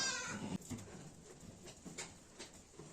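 A newborn lamb bleats faintly on a farm during its first attempts to stand and nurse, giving a few soft, brief calls over quiet background noise.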